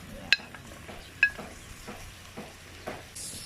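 Cooked chicken wings tossed in a honey teriyaki glaze in a pan outdoors, with two bright clinks of the utensil and soft scrapes over a quiet sizzle.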